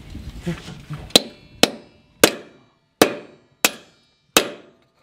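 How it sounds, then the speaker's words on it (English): Six heavy blows from a 4- to 5-pound sledgehammer ring out on metal at uneven intervals, each a sharp clang with a short decay, after brief talking at the start. "That's a 4-pound sledgehammer, 5-pound sledgehammer, slinging it with everything we got"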